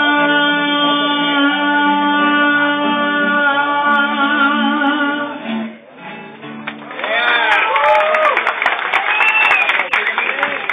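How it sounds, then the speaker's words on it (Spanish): Audience applause and cheering break out after a corrido ends at the 2009 Lunada in San Francisco del Oro; instrumental music fades, then dense clapping and scattered shouts follow. "Un aplauso a estos jóvenes."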